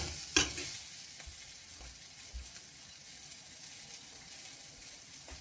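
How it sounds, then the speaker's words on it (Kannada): Grated coconut fries in a hot pan while being stirred. A faint, steady sizzle runs under soft scraping and light clinks, close by and quiet. "ಇದಕ್ಕೇ ಈಗ ಕೊಕೊನೆಟ್ ಹಾಕ್ತಾಯಿದ್ದೀನಿ. ಸುಮ್ಮನೆ ಜಸ್ಟ್ ಹಾಗೆ ಫ್ರೈ ಮಾಡ್ಕೋಬೇಕು ಅಷ್ಟೇ"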